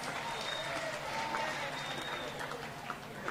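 Audience applause during a Women's Day speech by a politician, a steady wash of clapping from a large crowd heard somewhat distant and moderate in level.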